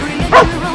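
A dog gives one short, close bow-wow bark in a quick burst, with light background noise around it.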